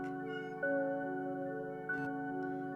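A white cat meowing in a story game, two short meows over a steady humming musical drone, moderately loud with no talking.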